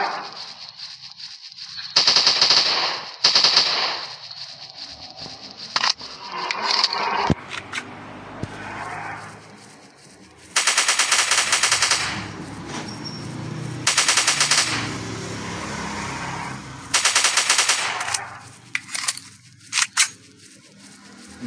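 Rapid automatic gunfire in an Android dinosaur hunting shooting game comes in several loud, close bursts of a few seconds each, separated by quieter stretches of game ambience.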